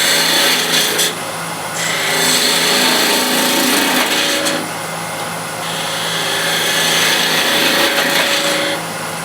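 A skew chisel cuts wood on a lathe, shaping a small barrel form: a continuous scraping hiss that swells and drops in several passes, with short quieter gaps between cuts and no talk.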